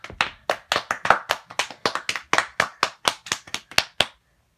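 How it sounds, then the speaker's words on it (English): Applause for a talk show guest: about twenty sharp, evenly spaced claps at a steady brisk rhythm, close and clear, ending abruptly. "Everyone give her a round of applause"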